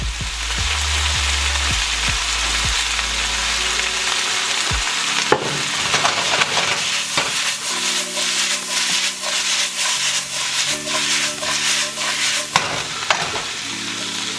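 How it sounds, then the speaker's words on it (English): Fresh noodles and bolognese sauce sizzle loudly in a hot sauté pan glazed with olive oil, with constant frying hiss and repeated rubbing, scraping stirring strokes close up and no voices. "We're gonna add about a cup of our bolognese here to a nice hot saute pan."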